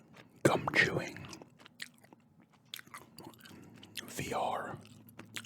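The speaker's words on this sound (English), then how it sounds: "I'll be doing a gum chewing" Close, soft chewing of gum with wet smacks and light crunchy bites in ASMR style, in bursts near the start and the end, under a quiet low hum.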